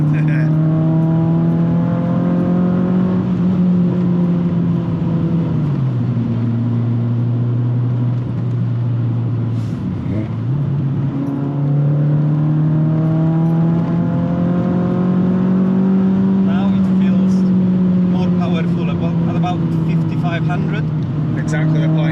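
A Renault Clio Trophy, one of 500 built, drives hard from inside the cabin. The loud engine note climbs steadily, drops at gear changes and rises again.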